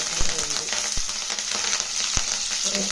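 Green chillies and curry leaves hitting hot oil already crackling with mustard and cumin seeds for a cauliflower masala curry, a busy close sizzle with sharp pops and a few stirring clatters.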